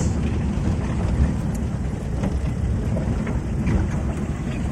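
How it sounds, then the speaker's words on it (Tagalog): Steady rain in General Santos hisses down without a break, a dense wash of noise with no voices. "Oh, it's raining."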